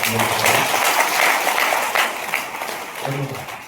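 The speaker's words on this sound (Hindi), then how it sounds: "एक बार जोरदार तालियां" Enthusiastic audience clapping at a motivational talk in Bhilwara, a broad sustained wash of hands with voices audible at the start and end, tapering off slightly near the close.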